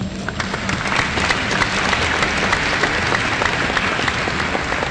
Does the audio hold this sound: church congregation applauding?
yes